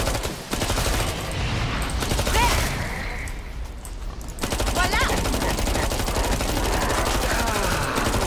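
Rapid gunfire in the video game Killing Floor 2, loud bursts of automatic shots that pause briefly before the shooting resumes, with game voices and effects mixed in.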